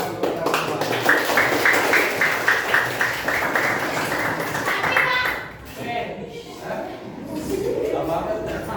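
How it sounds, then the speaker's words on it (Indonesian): Classroom audience of pupils clapping hands together during a microteaching lesson at a madrasah, a steady run of claps mixed with children's chatter, breaking off partway and then continuing more loosely. "tepuk tangan untuk yang kedua"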